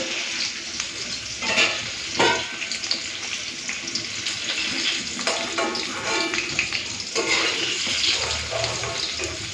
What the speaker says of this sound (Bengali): আমি ভেজে নিচ্ছি